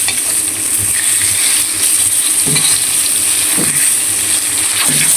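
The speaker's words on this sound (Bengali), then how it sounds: "মাছ ভাজা হচ্ছে।" Koi fish frying in a pan on a new gas stove, a steady close sizzle running throughout with occasional stirring clinks and scrapes, no talking.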